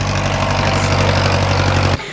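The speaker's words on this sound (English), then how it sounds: "If you hear a tractor behind me, Kale's getting the compost." A loud, steady engine drone with a low rumbling hum, running continuously close by before cutting off abruptly near the end.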